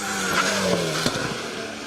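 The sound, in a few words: Alpine A110 rally car passing on special stage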